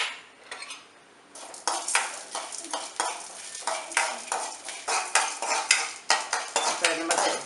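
Chana dal and urad dal frying in a teaspoon of oil, stirred with a spoon that scrapes and clinks against the pan in repeated close strokes over a light sizzle, with no talking.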